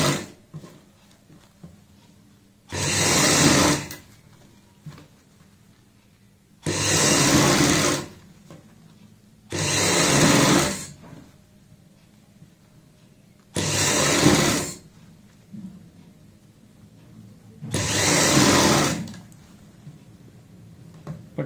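A sewing machine runs in five separate bursts of stitching, each about a second long with short pauses between, sewing the seams of a party-wear frock for a 10 to 12 year old girl. The motor whirs loud and close, with no voices.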